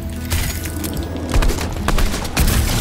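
Launcher explosions in Fortnite Battle Royale: several loud booms and cracks land about once a second over a busy backdrop of gunfire.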